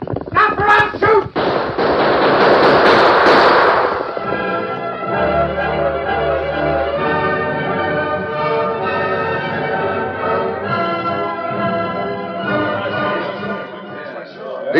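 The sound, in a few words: gunshots in radio drama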